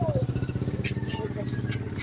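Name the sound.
motorcycle passing by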